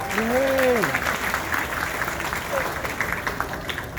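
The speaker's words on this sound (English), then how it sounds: "If you know Brian, give him an applause" An audience applauds a school counselor, with a steady wash of clapping throughout and a brief voice audible near the start.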